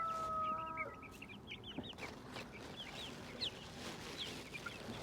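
Chickens cluck and chirp at feeding time, a busy run of short, bright calls from several birds at moderate distance, with a brief tone at the start and no one talking.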